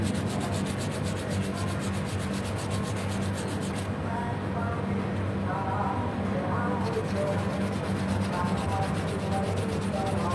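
A workpiece is rubbed by hand with 400-grit sandpaper in a steady, continuous back-and-forth rasp, close and even throughout, with a voice talking faintly underneath.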